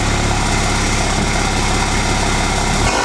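A 1/100-scale BMW model car's small engine revving hard, a loud, steady high-pitched buzz held continuously, with a brief drop in pitch near the end.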